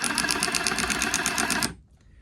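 A cordless WORKPRO 12V extended electric ratchet runs with a loud, steady mechanical whirring and rapid rhythmic chatter for under two seconds, then cuts off abruptly into near silence.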